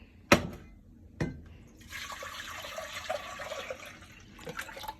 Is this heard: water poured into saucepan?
yes